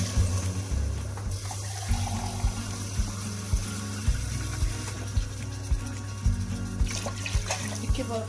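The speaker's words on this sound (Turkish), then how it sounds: "suyumu ekliyorum." Water poured into a pot of meat and chickpea stew, a steady splashing rush held under a repeating low thumping beat, close to the listener.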